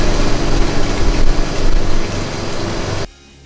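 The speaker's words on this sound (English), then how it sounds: "The crackling sound you hear in the background is the oxygen burning." A glassblowing torch burns with oxygen while a glass pen is being shaped, giving a dense, steady hissing roar with rough crackle that cuts off abruptly near the end.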